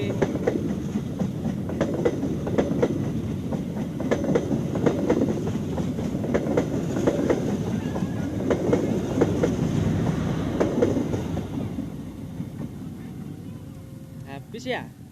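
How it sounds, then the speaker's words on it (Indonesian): A passing train with rail cars rumbles steadily at close range for about eleven seconds, then fades as it moves away; some faint talk sits underneath. "ada kereta api."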